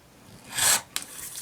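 A rotary cutter slices along the edge of a block ruler while fabric quilt blocks are trimmed to size: one soft rasping cut builds and fades, then a quick tick follows, close and alone with no talk.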